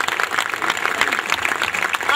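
Lively applause from the audience at an ONGC Hazira plant anniversary celebration welcoming the board of directors, close and fairly loud, with individual claps distinct and some voices mixed into the clapping.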